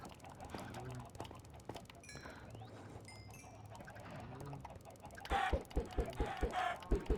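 Chickens in the Minecraft video game squawk and cluck in short bursts, with a run of sharp, louder hits and clucks bunched near the end over background game noise.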